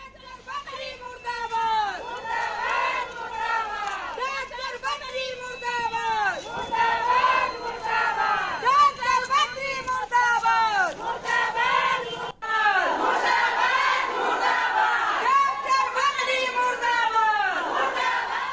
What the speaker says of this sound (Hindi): महिलाओं ने मोर्चा लिया और खूब हल्ला किया। वो हल्ला जरा सुना दीजिए भाई।